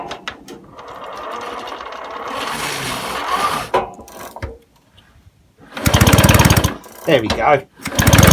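A 1974 Puch Maxi moped engine tries to start, sputtering and cranking in uneven mechanical bursts that rise and cut out, loud and close, with someone speaking between attempts.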